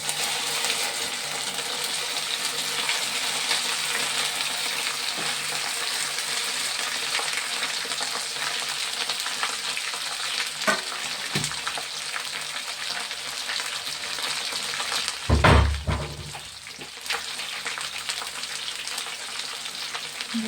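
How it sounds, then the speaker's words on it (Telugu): Okra pieces go into a pan of hot tempering spices and fry with a steady, bright sizzle. A brief louder burst of sputtering comes near the end, with no talking. "బెండకాయలు వేసేస్తున్నానండి ముక్కలు"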